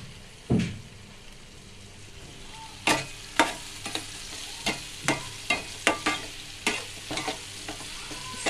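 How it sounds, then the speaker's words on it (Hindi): Onion and capsicum for pav bhaji are lightly fried and stirred in a pan, producing a steady sizzle with a series of sharp, regular spatula scrapes close by. "इसे भी हम लाइट फ्राई करेंगे ताकि क्रंचीनेस बाकी रहे अनियन और कैप्सिकम का"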